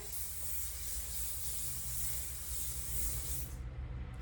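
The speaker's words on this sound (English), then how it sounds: "so shake it, spray it 6 to 8 inches from the hair" A steady aerosol hair spray hisses continuously for a few seconds, close and soft, then cuts off abruptly.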